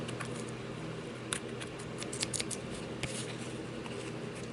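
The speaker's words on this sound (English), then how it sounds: "you can always go back in and trim up the little fuzzy parts" Scissors snip quietly at the fuzzy edges of a handmade gingerbread man ornament, a few soft close cuts over a steady low background hiss.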